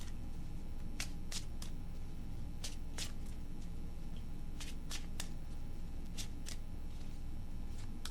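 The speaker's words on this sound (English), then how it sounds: "I'm going to pull one of the animal oracle cards just for a bonus" Animal oracle cards are shuffled in repeated quick riffling bursts, crisp and close, with short pauses between each flurry, over a steady low background hum and no talking.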